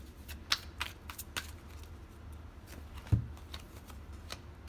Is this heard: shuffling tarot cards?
yes